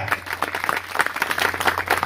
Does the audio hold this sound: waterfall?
no